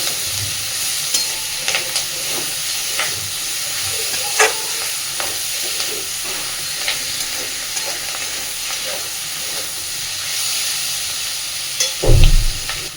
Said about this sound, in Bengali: গ্যাসের ফ্লেমটাকে মিডিয়ামে রেখে একটু সময় নিয়ে সুন্দরভাবে আলু কালি সব কিছুর সাথে মাছের তেলটাকে ভেজে নেবে